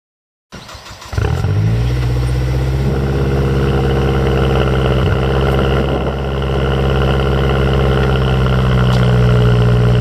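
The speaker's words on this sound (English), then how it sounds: "along with the cold start of the 2008 Mazda Speed 3 stock exhaust" A 2008 Mazdaspeed3 on its stock exhaust cold-starts: a brief crank catches within a second, then the engine settles into a loud, steady, droning high idle that holds close and unbroken for the rest of the clip.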